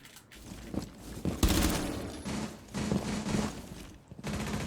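Gunfire punching through a wall in the video game Rainbow Six Siege, a fusillade of shots at moderate distance running over steady game ambience.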